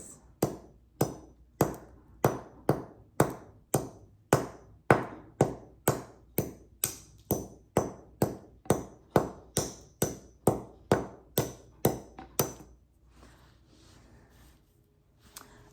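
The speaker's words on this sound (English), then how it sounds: "So I'm hammering everything down." A hammer strikes beads and crystals on a prom dress in a steady series of about thirty sharp, close taps with short ringing decays, then stops, leaving a quiet room.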